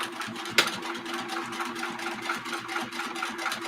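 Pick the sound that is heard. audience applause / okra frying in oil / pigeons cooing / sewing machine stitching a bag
sewing machine stitching a bag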